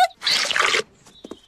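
Detergent pours into a bucket of water in a cartoon, a short close liquid gush lasting under a second, followed by a few faint drips and clicks.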